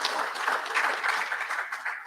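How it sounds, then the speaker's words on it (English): Steady round of applause from an audience for students at a memorandum signing ceremony, a continuous dense patter of many hands clapping at moderate distance, with no voices over it. "Let us give the students another round of applause for that."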